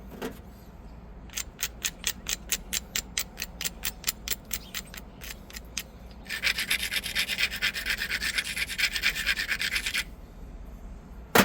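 Antler tool pressure flaking a broken stone biface into an arrowhead, a close series of sharp rhythmic scraping clicks followed by a longer continuous rasping grind, no speech.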